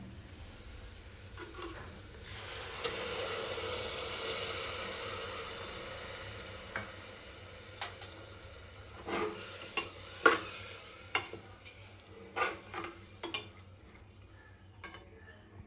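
Faint sizzling as soaked dal is added to hot oil in a pan builds and fades, followed by a series of sharp clinks and taps of utensils against cookware.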